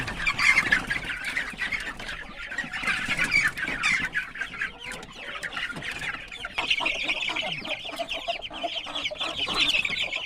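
A flock of chickens clucks and squawks continuously nearby, a busy overlapping chatter of hens.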